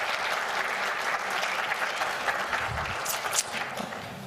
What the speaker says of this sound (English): Give them a round of applause with their magnificent...